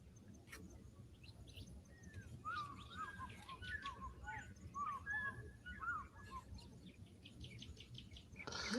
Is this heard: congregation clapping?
no